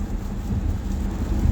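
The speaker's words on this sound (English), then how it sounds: "It's raining now. It went from sleet to rain." Steady rain falls after sleet on a cold day, a dense continuous wash of drops with a deep low rumble that may be distant thunder, close and fairly loud, with no voices.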